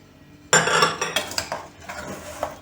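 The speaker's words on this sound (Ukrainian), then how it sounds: "І це перемішаємо." Potatoes with onion and seasonings being stirred in a bowl: after a half-second of quiet, a loud clattering scrape starts, followed by a series of sharper clinks and knocks of the utensil against the dish, alone with no talk.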